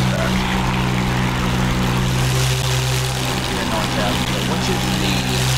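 Hawker Hurricane propeller fighter in a flight simulator game, its engine droning as a steady, loud, unbroken hum with a low rumbling tone throughout.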